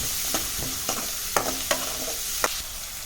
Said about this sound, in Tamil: வெங்காயம் போட்டு நல்லா போகணும்